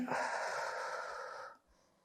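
One long, breathy exhale lasting about a second and a half during a Pilates abdominal strengthening exercise, close and fairly soft, trailing off into quiet.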